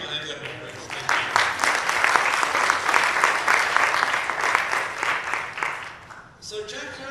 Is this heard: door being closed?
no